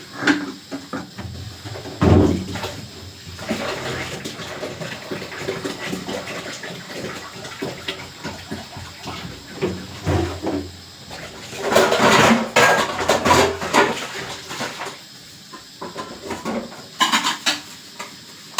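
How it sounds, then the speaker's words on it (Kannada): Dishes and pots are washed by hand in a home kitchen, with irregular clanks of vessels, scraping and splashing water coming in uneven bursts and pauses, close to the listener. "ಅಷ್ಟರಲ್ಲಿ ನಾನು ಪಾತ್ರೆ ತೊಳ್ಕೊತೀನಿ."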